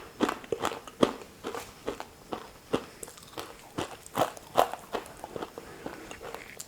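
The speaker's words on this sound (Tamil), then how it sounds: "ரொம்ப சூப்பராக மொறுமொறுன்னு நல்லா வந்திருக்கு ஸ்நாக்" Someone bites into a crunchy fried chana dal snack seasoned with salt and chili powder, with brisk, close crunching bites in a steady run and no talk.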